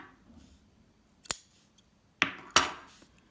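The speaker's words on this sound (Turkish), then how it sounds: "Bir zincir çektim ve ipimi kesiyorum." Crochet yarn cut with scissors, three crisp snips close to the microphone, one early and two in quick succession later, against a near-silent background.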